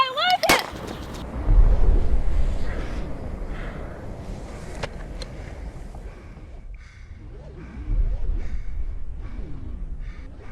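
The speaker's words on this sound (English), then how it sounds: "I will shoot you where you stand." Gunshots from a film scene ring out under tense dialogue, with a sharp crack near the start followed by further scattered reports and echoing impacts among voices.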